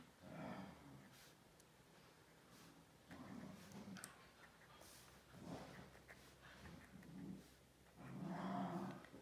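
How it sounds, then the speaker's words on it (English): Dogs growl and grumble in a few separate bursts, fairly close, with quiet pauses between them and no talking. "Ignore my dogs in the background."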